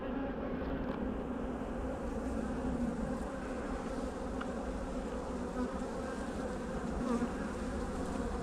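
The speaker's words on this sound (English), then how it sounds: "So they're aggressive little bees." A dense, steady drone of many aggressive honey bees buzzing close by at an opened hive, continuous and unbroken, with no voices.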